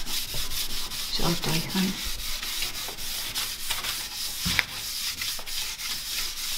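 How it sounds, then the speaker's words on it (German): Close, steady scrubbing of a greasy kitchen cabinet with a damp sponge and baking soda, a continuous rough rubbing texture with faint strokes, briefly under a few spoken words. "wie fett verschwindet in Sekunden oder Minuten durch ganz leichtes Schrubben"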